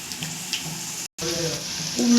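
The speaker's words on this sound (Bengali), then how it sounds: "এগুলো লাল লাল করে ফ্রাই হচ্ছে" Chicken pakora balls deep-frying on a gas stove, a steady close crackling sizzle with small pops throughout and one brief dropout midway.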